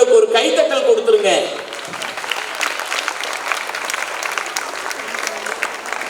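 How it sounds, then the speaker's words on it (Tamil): An audience at a school annual day function breaks into sustained applause that starts under a speaking voice and then carries on alone as steady, dense clapping. "அவர்களுக்கு ஒரு கைத்தட்டல் கொடுத்துருங்க"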